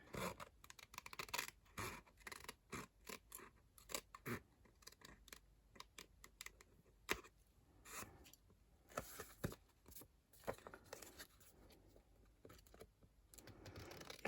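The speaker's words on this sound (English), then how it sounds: "You can just sort of feel the envelope a little bit with your scissors, just go careful." Scissors trim around a paper birthday card in close, quiet snips and scrapes, coming in irregular short bursts with brief pauses in between.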